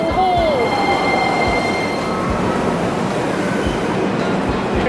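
A subway train in Bulgaria rumbles steadily throughout, with a brief wheel squeal near the start and rhythmic clicks from the rails, heard from on board or close by.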